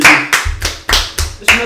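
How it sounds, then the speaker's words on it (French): Single person clapping their hands, about six sharp, close claps in an uneven rhythm, loud and alone. "Je m'applaudis."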